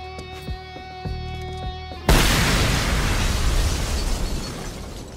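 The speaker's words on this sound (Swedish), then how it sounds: "Wow, fyrverkerier och prylar man." Fireworks in the video game Generation Zero: steady tonal game music gives way to a sudden loud blast, followed by a sustained crackling, rumbling roar that slowly fades.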